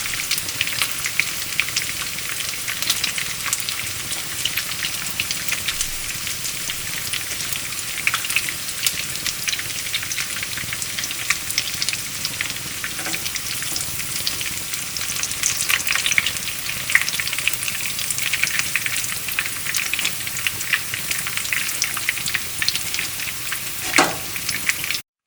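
Malai chapli kababs fry in a pan with a steady, dense sizzle and crackle throughout, close and continuous, with no voices.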